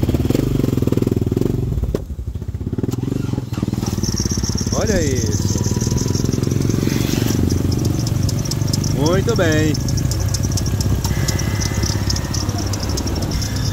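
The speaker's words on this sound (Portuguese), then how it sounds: "um amigo vai dar partida aqui no motor. Para a gente escutar ele funcionando." A used car's engine runs at a steady, loud idle throughout, with people talking briefly over it.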